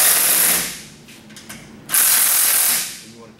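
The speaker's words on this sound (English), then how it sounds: "So we want to begin to tighten, and we're going ahead and make sure that by tightening the top one." Panels are tightened during assembly with a ratcheting tool, giving two loud bursts of rapid clicking separated by a quieter gap with a few faint knocks, heard up close and alone.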